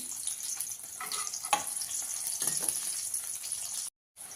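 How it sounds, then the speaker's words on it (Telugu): Onions frying in oil for Hyderabadi paneer masala, a steady moderate sizzle with occasional stirring scrapes and crackles, briefly cutting out near the end, no voices. "ఆనియన్ అయితే కొంచెం ముందు ఫ్రై చేసుకోవాలి"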